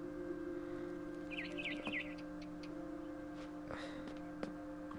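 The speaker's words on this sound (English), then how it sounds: "Then I heard chirping outside my window. It was a barn swallow going back to her nest." Barn swallow chirping near a nest outside a window in the video game What Remains of Edith Finch, a few quick faint tweets over a steady hum with soft ticking sounds.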